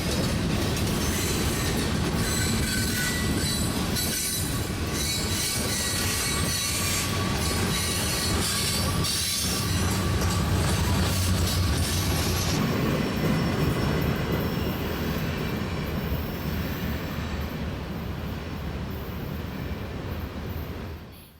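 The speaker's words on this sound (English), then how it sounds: "The track bends as the heavy freight cars travel across them." Heavy CSX freight train rolling through a track bend on Sand Patch Grade, a long, loud steady rumble of wagons with wheel squeal and rhythmic clicking over the rails, close by and continuous.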